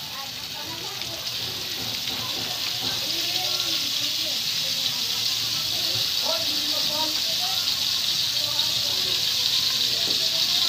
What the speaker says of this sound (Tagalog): Lagyan na natin yung margarine. Ayan, lagayin natin lahat.